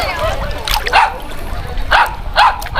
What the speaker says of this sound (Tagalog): Nagalit yung aso, di siya makaalis dun sa duyan.